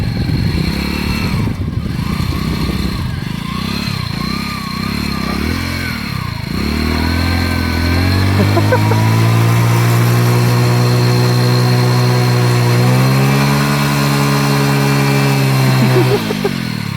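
A motorcycle engine rumbles through its silencer at close range, idling unevenly at first, then revving up and holding a loud, steady high-pitched drone before easing slightly near the end.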